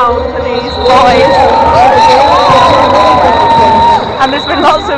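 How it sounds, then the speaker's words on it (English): Loud roller derby crowd at a men's bout, a dense roar of cheering and shouting that swells after the first second and holds steady, with whistling voices rising through the din. "The crowd are extra specially loud for these boys."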